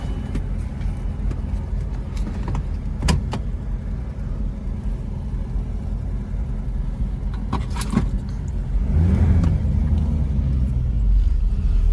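A Chevrolet 250 six-cylinder engine idling smoothly and quietly, a steady low rumble close by with a few light metallic clicks, swelling slightly louder near the end.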